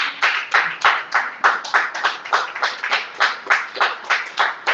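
A church congregation claps in a steady, even rhythm to acclaim the word, crisp hand claps repeating about three times a second, close and loud, with no talking.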